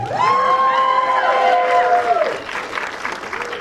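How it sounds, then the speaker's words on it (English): Audience at a comedy show clapping and cheering for a comedian, with loud whoops and shouts riding over the applause early on, then thinning to scattered clapping and crowd noise. "Clap for me real quick."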